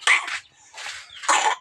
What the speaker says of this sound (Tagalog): Ubo-ubo pa man, oy.